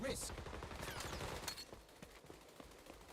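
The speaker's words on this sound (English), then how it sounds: "Who is shooting at me that I don't want to be shooting at me?" Gunfire in the shooter game XDefiant sounds as a muffled burst of rapid shots, fairly faint and somewhat distant, thinning out into scattered pops, with a voice talking over it.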